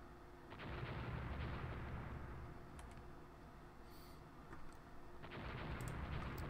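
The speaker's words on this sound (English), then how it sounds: "he's been hit again with 7-inch guns" Naval 7-inch gunfire in the Rule the Waves battle game comes as deep, booming rumbles under a low, continuous battle ambience, with a few sharper cracks and a couple of heavier blasts spread across a few seconds.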